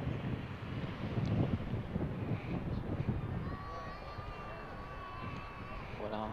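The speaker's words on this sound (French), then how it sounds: "C'est vrai que le vent s'est un peu levé aussi." Wind buffets and roars across the microphone at an outdoor skating race, loud and continuous, while a commentator talks over it and faint tonal sounds come and go.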